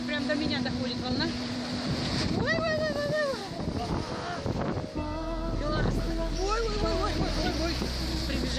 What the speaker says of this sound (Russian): Такие волны, такое море!